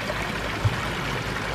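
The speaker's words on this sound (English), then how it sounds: "look how that ripple goes right back in" Water trickling and rippling steadily as a small stream runs into a backyard patio koi pond, a continuous close wash of splashing flow with no other sounds.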